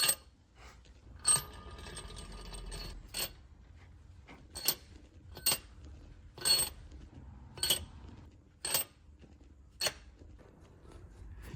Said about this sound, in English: using a digital torque wrench to keep things absolutely perfectly precise